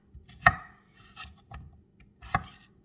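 A knife chops through wet potatoes on a board while Easter dinner is made: three sharp, separate thuds, each with a short bright click, spaced about a second apart against a quiet room.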